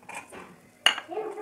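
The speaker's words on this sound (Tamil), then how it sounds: "நம்ம முந்திரி பருப்பை அதையும் வறுத்து வச்சுக்கணும். லைட் ப்ரௌன் வர வரைக்கும் வறுத்து." Cashews and raisins roasting in a pan, with a metal spoon giving one sharp clink against the pan, then light scraping and rustling nearby. Nobody speaks.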